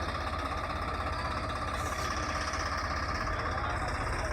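A Massey Ferguson tractor stuck in a pipeline trench idles with a steady, unbroken low rumble, heard close and alone throughout.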